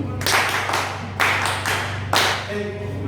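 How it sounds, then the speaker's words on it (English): Classroom audience clapping for a student at a teacher workshop demo lesson, three bursts of brisk applause lasting under a second each, close and fairly loud, with a steady low hum underneath. "Clap for him."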